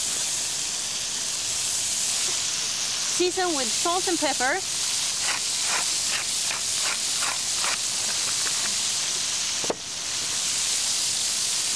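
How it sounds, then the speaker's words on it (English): Loud, steady hiss of wild game meat sizzling in a hot frying pan outdoors in the snow, with someone speaking briefly over it and a sharp clack near the end. "The meat goes in the frying pan."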